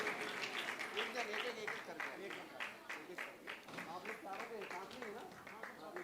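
An audience at a Jain sermon in Jabalpur claps in a loose, sustained patter of many hands, moderately distant and even, with a voice faintly audible beneath it.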